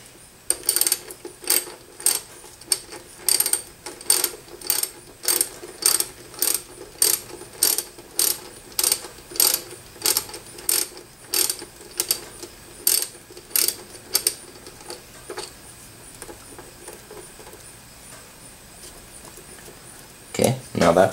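A ratchet clicks in repeated quick bursts loosening a throttle body bolt on a 2006 Acura TSX, close and crisp with regular strokes that slow and fade before a final burst.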